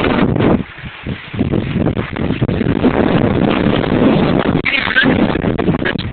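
Strong wind gusts buffet the microphone outdoors at an abandoned iron-mining ghost town with an old kiln, a loud, continuous roar that dips briefly near the start and then surges steadily.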